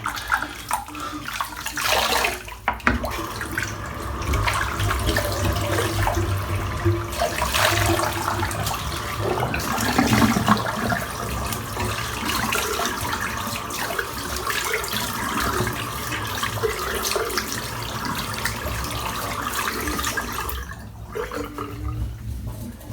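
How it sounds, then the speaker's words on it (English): Tap water runs continuously at a bathroom sink while a face is rinsed after shaving, a loud, steady gush and splash close by with slight variations in flow and no speech. "What I'm going to do is just rinse off my face now"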